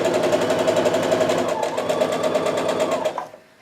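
A sewing machine chain stitches quilt block pieces for a kaleidoscope block, running in a fast steady whir close by, shifting pitch slightly midway, then stopping abruptly near the end.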